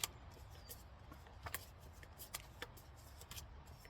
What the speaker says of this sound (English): And I just sift until I get to all the cards that I deem purple.